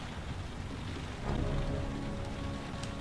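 Steady rainfall in the video game Heavy Rain on PS4, a continuous hiss of drops on surfaces that swells slightly partway through and stays even, with no voices.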